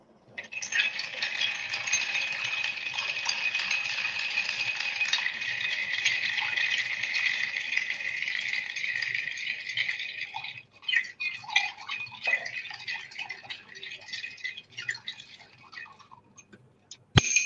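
A rum cocktail is stirred with ice in a mixing glass, giving a long, steady rapid rattle of ice close by for about ten seconds, then slower, scattered clinks with a final sharp knock.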